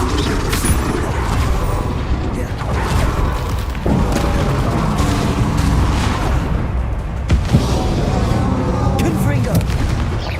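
Incendio fire spells cast in combat in the Hogwarts Legacy video game, heard as loud booming bursts with rumbling impacts that recur every couple of seconds. A voice talks over the blasts.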